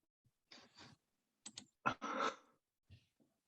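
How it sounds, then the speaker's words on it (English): Typing on a computer keyboard during an Android app development workshop: quiet, sparse bursts of key clicks in short clusters with pauses between them. "How do you type so fast?"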